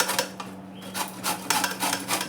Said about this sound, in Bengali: এরকম করে গ্রেট করে নিচ্ছি আমগুলোকে